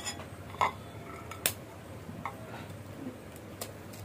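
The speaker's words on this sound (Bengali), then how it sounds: "আর এখানে ডিম আমি ফেটিয়ে নিচ্ছি, 2টো ডিম নিয়েছি।" Two eggs are beaten with a fork, giving quiet, irregular clicks and taps of metal against a bowl, with a couple of sharper knocks standing out from a soft background hiss.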